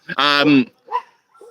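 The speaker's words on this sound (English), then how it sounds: "I apologize for the barking dogs around me," Dogs barking close by: one loud, drawn-out bark is followed by two fainter, shorter yips with silence in between.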